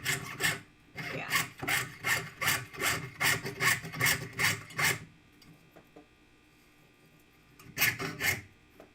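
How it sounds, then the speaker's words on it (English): A hand saw cuts through two stacked pieces of 18 gauge metal in about a dozen quick, rhythmic rasping strokes. A quiet pause follows, then a short final burst of strokes. "I'm sawing 2 pieces of 18 gauge at the same time, so it's really heavy."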